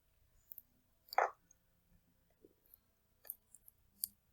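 Keys pressed one at a time on a computer keyboard while typing a command into a Linux terminal: a handful of quiet, separate clicks spread over a few seconds, with one slightly louder keystroke near the start, in an otherwise silent room.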